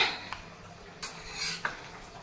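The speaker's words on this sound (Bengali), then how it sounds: "আর মা এখানে রান্না করছে," Scattered metallic clinks and scrapes of pots and utensils in a kitchen, a few sharp clanks standing out over a soft background hum.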